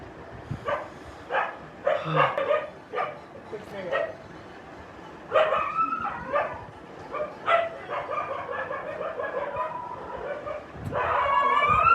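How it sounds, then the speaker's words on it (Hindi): Several dogs bark and yip repeatedly nearby, short overlapping barks with some whining in between, fairly loud and busy throughout. "और गाइस अब डॉगी भौंक रहे हैं"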